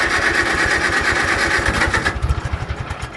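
A small engine fitted with a Chinese carburetor runs with the choke on, a buzzing steady drone that drops into a slower, uneven putting idle with distinct pulses near the end.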